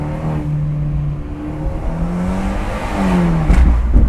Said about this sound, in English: Oh my god, those pops.